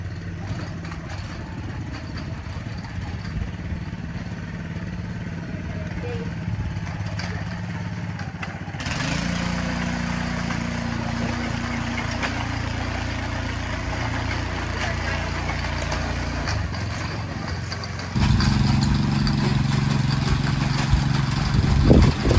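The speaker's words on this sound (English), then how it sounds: "now we are just gonna give it an attempt at rotivating it" A small petrol rotavator tilling garden soil runs steadily for the whole stretch, a continuous rough drone that shifts and gets louder partway through, close by outdoors.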